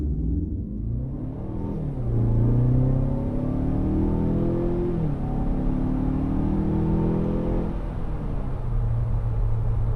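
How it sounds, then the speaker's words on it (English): A 2018 Mazda6 accelerates hard on a straightening road in a 0 to 60 mph run, its engine note rising and stepping down through gear changes, heard steadily from inside the cabin. "do a quick 0 to 60 run once this road straightens out"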